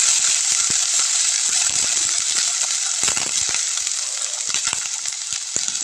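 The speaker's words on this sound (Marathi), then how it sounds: "त्यामध्ये मी जे धुवून घेतले गोबी ते मी त्यामध्ये ॲड करते" Washed cabbage dropped into hot oil with browned garlic, a loud close sizzle and hiss that stays constant while scattered clicks and taps of a stirring spoon sound through it.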